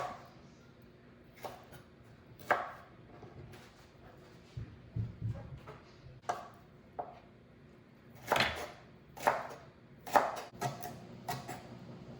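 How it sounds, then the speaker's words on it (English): A kitchen knife chops celery on a cutting board in irregular sharp knocks. The knocks come singly and in short clusters at moderate loudness against a quiet room. "So I'm going to chop the celery"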